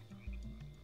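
The Antler Frog, a Spore creature, gives a brief low croak that swells and wobbles over under a second, fairly soft and alone.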